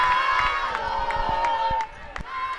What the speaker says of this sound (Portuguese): E a torcida vai fazendo a festa